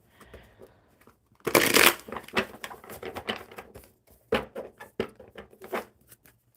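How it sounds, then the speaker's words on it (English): A deck of tarot cards is shuffled in quick riffling bursts, close and crisp, with a pause between rounds and brief soft handling sounds in between. "One more shuffle for Hope."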